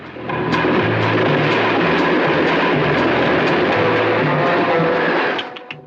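A train runs steadily along the rails, its wheels beating out a regular clickety-clack close by for several seconds before the noise drops away at the end, with no voices.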